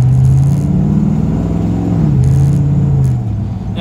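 A 1996 Impala SS with a Gen V engine swap drives along with a loud, steady engine drone heard from inside the car. The pitch rises and falls gently as it revs, with no talking.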